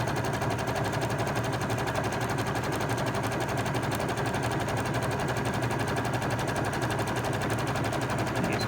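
A sewing machine stitching a zigzag along a fabric edge to bind it, running in a fast, steady, continuous rattle throughout, close and loud with no talk.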